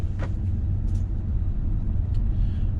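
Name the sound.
BMW 520i 2018 car driving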